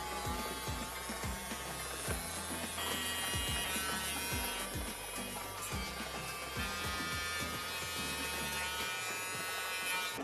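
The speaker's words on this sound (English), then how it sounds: "We're gonna cut the mustache going with the grain for the one guard." Hair clipper with a one guard trimming a mustache with the grain: a steady, close electric buzz running throughout, with small shifts in tone as the blades move through the hair, no talk.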